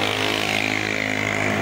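A noisy motorcycle on a road in Zamboanga City, its engine buzzing in a loud, steady, close drone with a slowly shifting pitch and no speech.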